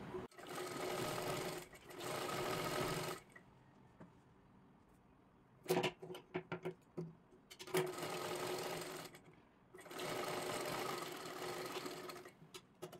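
A domestic sewing machine stitches fabric down the full side of a handmade hair band, running in loud steady bursts, then stopping for short choppy stitches, then running steadily again, close by with no talk.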